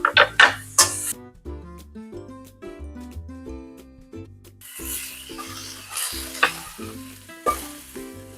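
Ginger frying with ground pork in a hot pan gives a steady close sizzle, broken by scraping and stirring strokes of a utensil against the pan and a few sharp clinks.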